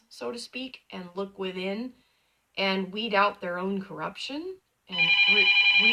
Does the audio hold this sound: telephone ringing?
yes